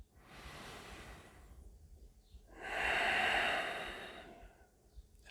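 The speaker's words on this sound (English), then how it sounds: "2 more breaths here." Slow, deep breathing during a yoga flow: a soft inhale followed by a longer, louder, airy exhale, close and unhurried.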